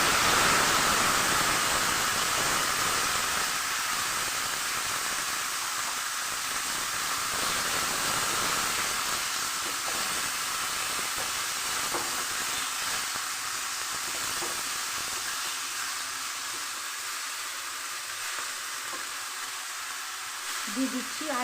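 Boiled chickpea greens drop into a pan of garlic fried red, setting off a loud, broad sizzle that slowly settles into a steady hiss.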